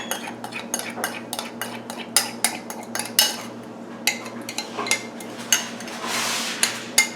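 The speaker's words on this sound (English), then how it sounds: "I'm going to mix this little mixture in here." Spoon clinking and scraping against a bowl while a small vegan sauce mixture is stirred, a rapid series of close, bright metallic taps with no talking.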